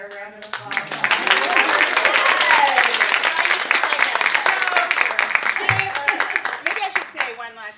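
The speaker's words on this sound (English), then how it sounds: "Can y'all give a little bit better round of applause?" A theatre audience at a community conversation breaks into loud, sustained applause, many hands clapping close and dense for several seconds, with voices faintly under it.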